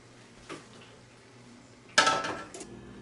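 Glass canning jars of green beans set down into a pressure cooker, giving a soft clunk and then a louder clattering clink of glass against metal, close by.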